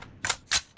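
A video game weapon being reloaded makes two quick sharp mechanical clacks and then a third lighter click, close and crisp, with no one talking.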